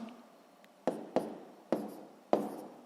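Pen or pencil writing numbers on paper during column multiplication, four short distinct strokes at uneven intervals, close and quiet, no talking.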